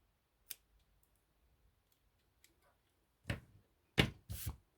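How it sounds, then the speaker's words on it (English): Scissors trim excess material from a small handmade doll sneaker, several crisp close snips, one early and a tight cluster of three near the end, with near silence between. "And then you just cut off the excess."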